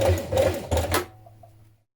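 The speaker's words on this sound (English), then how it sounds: "Then stitch across the top of that sleeve bend horizontally, just a small amount." A domestic sewing machine stitches briefly across the top of a blouse sleeve, about a second of steady mechanical whirring that stops and leaves a faint low hum fading out.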